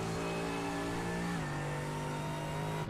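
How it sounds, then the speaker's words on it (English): A video game race car's 4-litre turbocharged V8 engine roars at high revs, holding a steady buzzing tone before the pitch drops briefly and settles again, loud and close throughout. "Now it is the 4 litre turbocharged V8 engine,"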